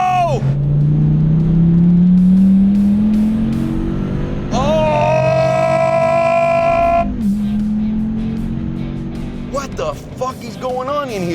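A Dodge Viper ACR with a 645-horsepower 8.4-liter engine pulls hard at full throttle on track, its loud engine note rising steadily through the revs, with a sharp upshift and a brief howl at higher revs, all close-up and under excited talk.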